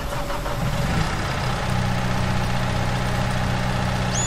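Skid steer engine in Farming Simulator 2019, starting up and settling into a steady, rumbling low idle that holds loud and continuous.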